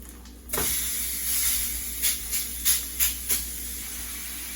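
A burger patty sizzles on a hot griddle just after being flipped, a steady close hiss with a few short louder crackles and scrapes near the end.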